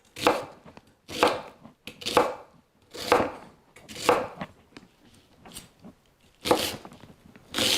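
Onions are chopped with a knife on a board in a series of crisp, close strokes coming in uneven bursts with short pauses between them.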